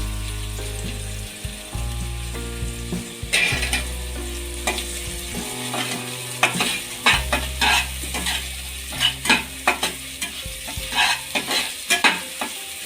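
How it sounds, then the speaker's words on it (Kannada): Cumin seeds frying in oil in a pan for jeera rice and being stirred, a steady sizzle with repeated scraping strokes of the spoon growing busier toward the end, close and loud, no voices. "ಈಗ ಜೀರಿಗೆ ಎಲ್ಲ 2 ನಿಮಿಷ ಫ್ರೈ ಮಾಡ್ಕೊಂಡಿದ್ದೀನಿ"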